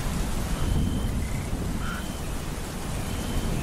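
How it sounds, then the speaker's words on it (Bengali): Heavy rain roars steadily with a low rumbling undertone, like a thunderstorm, and faint croaking calls in the background. "বৈশাখের ঝড় বৃষ্টিতে গ্রাম বাংলা যেন এক অন্য রূপ নেয়"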